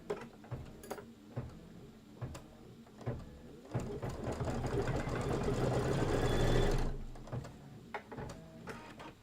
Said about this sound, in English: Now it's going to do one more line of stitching